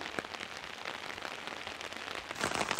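Steady rain falls through a forest during a hike in the Ouachita National Forest, a dense, continuous patter with scattered sharp drop hits that swells slightly louder near the end, with no voices.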